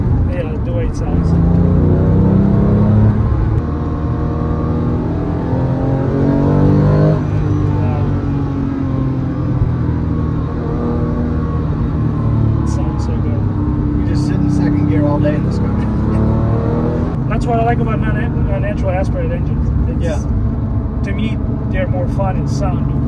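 A Porsche 911 GT3 996.2 flat-six engine running and revving, a loud steady drone with rising and falling pitch that swells in places over a long stretch, with people talking over it.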